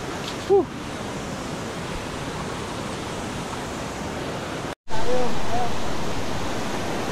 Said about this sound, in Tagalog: Nasa ibabaw tayo ng ikalawang talon yan oh.